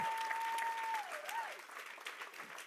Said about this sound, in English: Give Pastor Paige a clap.